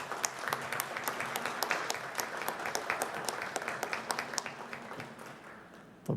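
An audience applauds the ambassador's family at a civic honor ceremony, sustained dense clapping from a crowd in a hall, fading slightly toward the end.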